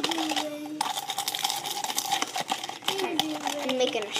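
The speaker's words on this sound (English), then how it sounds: "Then you want a spoon to stir it up." A spoon stirring a shot drink made with beer, light clinking taps against the glass over about four seconds while a person talks over it.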